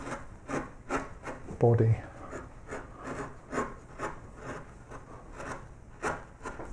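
Quiet hand carving of a wooden child's bedroom sign with quarter-inch carving tools, a run of short scraping and paring cuts close by, with a brief spoken word partway through.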